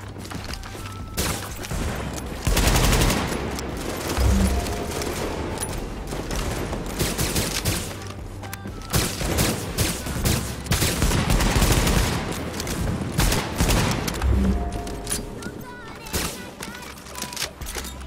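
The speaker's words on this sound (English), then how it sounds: "They're being shot from behind." Rapid bursts of automatic gunfire rattle in the video game The Division, loud and dense with short pauses between volleys, while players talk over the shooting.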